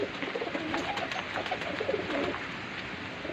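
Young pigeons coo softly and steadily in a close, continuous murmur of low calls, with faint rustling through the background and no voices.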